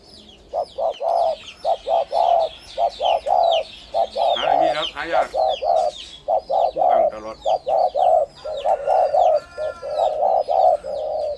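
Close, loud repeated spotted dove coos in a rhythmic phrase, with other birds chirping and calling in the background.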